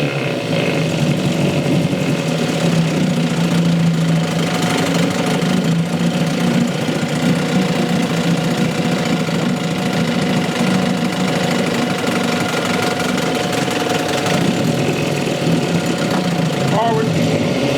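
A 1963 Evinrude 5.5 HP outboard motor runs steadily after a repair, a constant close buzzing drone with a fast mechanical chatter that holds unbroken throughout.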